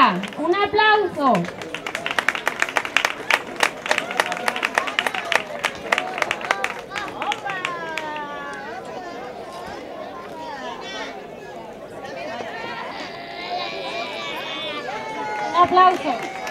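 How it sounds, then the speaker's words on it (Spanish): Crowd of parents and children clapping at a school end-of-year ceremony in Almonte, a thick rapid burst of applause early on that thins into scattered claps, with voices and chatter mixed in. "Un aplauso."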